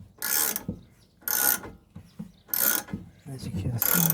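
A hand tool tightening a rear axle suspension bushing on a Toyota, repeated ratcheting bursts in four evenly spaced strokes, close and fairly loud.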